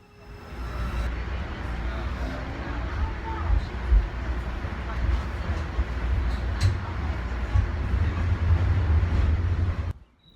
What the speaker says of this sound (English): Here I got to take the 45-minute ride on the light rail